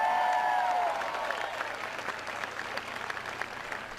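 Applause and crowd noise from an enthusiastic audience at a political rally in Norfolk, Virginia, welcoming Governor Romney, with broad steady clapping that gradually thins over four seconds, plus a few brief whistle-like tones near the start.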